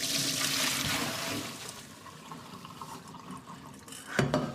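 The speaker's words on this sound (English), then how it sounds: "I'm going to drain the beans now because I do want them crunchy" Cooked beans are drained: water pours and splashes steadily, then tapers to a trickle before a brief louder splash near the end, close by with no talking.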